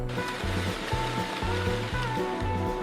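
Sea water churns and foams steadily as a fishing trap closes in the open ocean, a dense, continuous roar of agitated surf with rhythmic low pulsing throughout.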